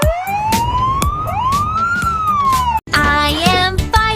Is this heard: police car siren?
yes